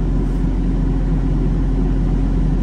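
A vehicle engine runs steadily under load, with the air conditioning switched on, during a machinery inspection at an auction in a port. It gives a continuous low hum and drone, loud and even, and no one speaks.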